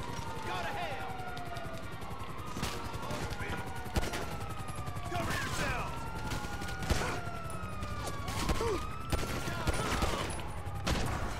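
Repeated bursts of gunfire in the video game Grand Theft Auto V crackle through a chaotic street scene, with sirens wailing in the background and occasional louder shots.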